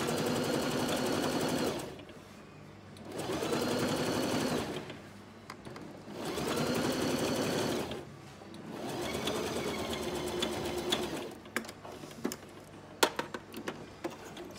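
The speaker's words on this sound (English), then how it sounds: "So run your stitch down" A sewing machine stitches through layers of a reusable cloth sanitary pad in four rhythmic runs separated by short pauses, followed by a few sparse clicks and taps.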